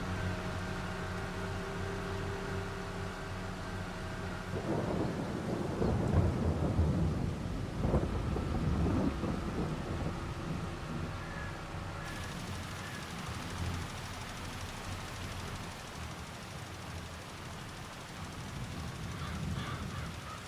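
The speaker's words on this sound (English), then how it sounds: "Let's see how long it's gonna rain today." Steady rain falls over a limed, unplanted farm field, with a deep rolling rumble of thunder building in the middle before easing back to the hiss of rain.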